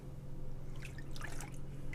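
Water drips and trickles off a Pantech Element tablet just lifted out of water, scattered small splashes and droplets close by over a low steady hum.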